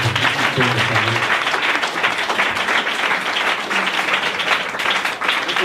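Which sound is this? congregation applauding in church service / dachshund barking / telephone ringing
congregation applauding in church service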